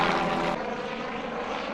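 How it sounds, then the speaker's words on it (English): A helicopter flies overhead at a disc golf course, a loud steady rotor-and-engine roar that fills the whole moment and eases slightly partway through, with no talking. "Fucking helicopter."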